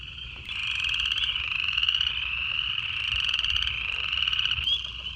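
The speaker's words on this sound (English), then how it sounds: "You can hear southern leopard frogs chuckling in the back." Southern leopard frogs calling in a steady, dense chorus of chuckling croaks at moderate distance, continuous throughout with no talk.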